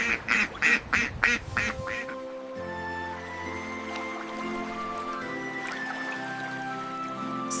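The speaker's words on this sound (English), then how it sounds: "Ducks are water birds with flat beaks and webbed feet." A duck quacks about five times in a quick, close sequence, then the calls stop and a steady background of tonal sound continues.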